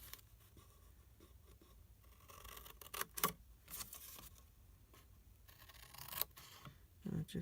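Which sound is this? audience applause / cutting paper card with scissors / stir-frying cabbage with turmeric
cutting paper card with scissors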